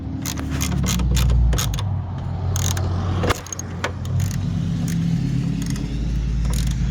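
A small hand tool tightens the headlight bolts on a dually pickup truck, giving quick, close clicks in short bursts over the low, steady rumble of an engine.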